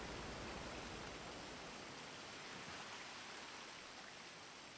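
Steady rain falls in a video game, a soft, even hiss of drops that holds faint and constant throughout with no voices.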